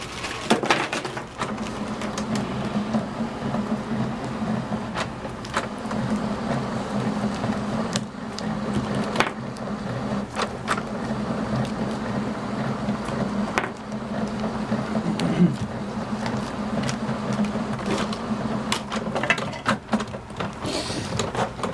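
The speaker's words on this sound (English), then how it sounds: "So as you can see, the printer is currently charging the ink." A Canon MX922 inkjet printer fitted with a continuous ink supply system for 250/251 cartridges charges its ink, giving a steady mechanical whir and hum with scattered clicks and ticks that runs on evenly throughout, with no voices.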